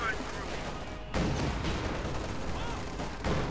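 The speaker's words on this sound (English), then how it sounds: "Mortars going up there" Mortar fire in the World War II strategy video game Company of Heroes 2 sounds as loud booming blasts over continuous battle rumble, while a commentator talks over it.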